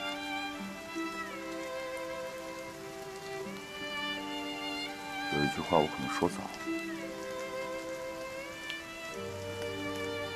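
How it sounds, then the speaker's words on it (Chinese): Heavy rain falling in a wartime film scene, a steady broad hiss running the whole time beneath sustained music and a person speaking. "我真的害怕我们的气势会被大雨浇灭了"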